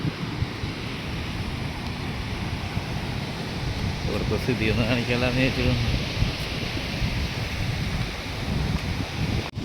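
Rough sea at Chellanam on the Kerala coast, a steady broadband roar of wind and surf filling the whole stretch, with someone talking over it.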